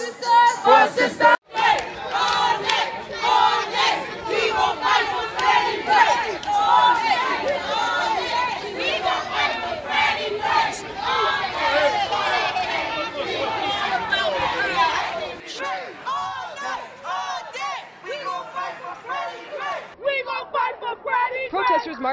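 Protesters marching through city streets toward a police headquarters, a large crowd chanting and shouting in rhythmic call-and-response, loud and close, with continuous overlapping voices that thin out toward the end.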